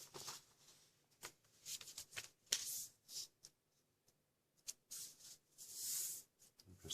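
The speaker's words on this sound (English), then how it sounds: "First crease, we're going to do a valley fold from this corner" A sheet of origami paper is folded and creased, giving soft, close rustles and crisp pressing swipes in short bursts separated by brief quiet gaps.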